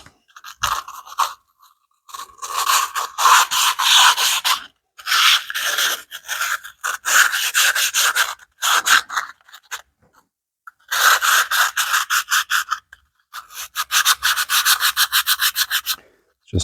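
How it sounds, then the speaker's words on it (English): Hand sanding with 180 grit sandpaper on a part of a Morris Mini Deluxe, close rhythmic rasping strokes in bursts with short pauses between them. "I want a little bit of sandpaper / scour."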